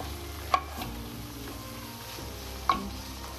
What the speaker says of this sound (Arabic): بس هيك بنحركهم لمدة دقيقة بس لحتى يختلطوا كل المكونات